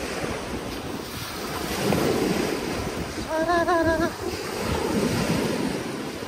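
Sea waves washing on the shore at Jebudo island with steady wind buffeting, the surf swelling and easing in broad surges, and a short tonal call rising briefly midway.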